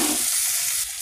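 Onion, garlic and chili dropped into hot oil already tempered with five-spice: a loud, dense, hissing sizzle that stays steady and eases slightly toward the end of a brief moment.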